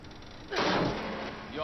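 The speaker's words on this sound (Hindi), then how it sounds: "गोलियां चली भाई गोलियां चली" A single heavy boom from gunfire in the survival horror video game The Evil Within, a sharp blast followed by a rumbling decay, fairly loud over quiet game ambience.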